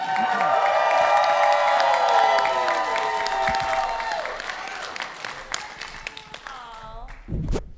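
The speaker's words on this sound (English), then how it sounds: "please give a huge round of applause for Katie Cassidy." Loud applause from a convention panel crowd, with a harmonic tone and voices over it, fading into scattered claps and a few thumps near the end.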